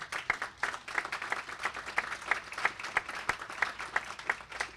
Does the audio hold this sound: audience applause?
yes